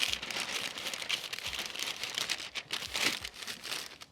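Masking paper is crinkled and wrapped around a car headlight during headlight restoration, giving close, continuous papery rustling and crumpling with brief louder crackles throughout.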